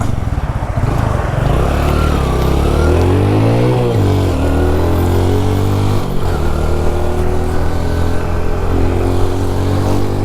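A modified Hero Splendor motorcycle on its normal exhaust runs loud and close, its engine rising and falling through several revs with a rough, throaty idle in between.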